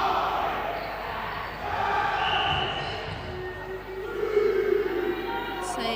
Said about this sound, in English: The crowd are trying to off-put the goal attack.